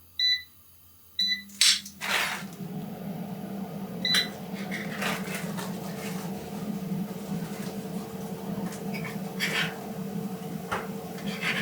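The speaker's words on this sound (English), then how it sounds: "I'll put my air fryer on now. You'll hear it" An air fryer hums steadily in a kitchen after a few short electronic beeps at the start, its low whirring drone continuing under faint clatter and occasional small knocks.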